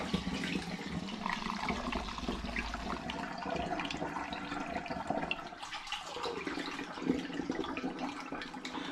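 Homebrew Vimto and hops cider is poured through a funnel lined with a coffee filter into a demijohn, giving a continuous trickling, splashing flow of liquid near the microphone.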